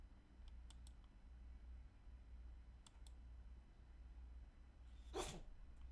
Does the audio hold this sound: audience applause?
no